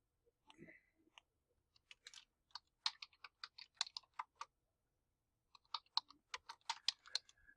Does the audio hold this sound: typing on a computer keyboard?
yes